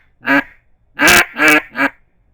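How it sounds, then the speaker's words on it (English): A low-pitched duck call, made for close-in birds on small puddles, is blown nearby in four loud, raspy quacks: one short note, a pause, then three in quick succession. "It's a lower pitch call, good for more, I guess you could say, close encounters, smaller puddles and whatnot."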